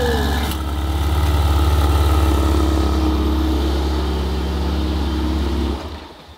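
A Ferrari engine running at a loud, steady idle, a deep constant rumble with a brief rev near the start, close by and cut off abruptly near the end.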